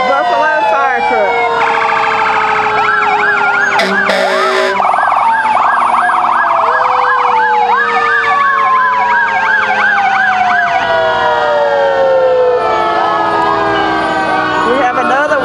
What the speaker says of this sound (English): Buffalo fire engine? Buffalo fire truck.